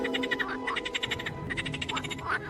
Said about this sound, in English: The fields were filled by the sound of croaking frogs